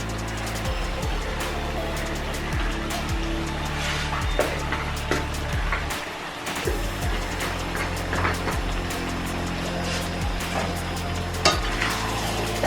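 Bombay duck fish frying in a pan with turmeric, stirred steadily, giving a continuous loud sizzle with scraping utensil strokes throughout and a brief lull midway.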